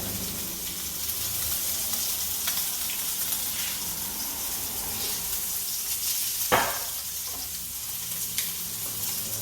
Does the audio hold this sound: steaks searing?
yes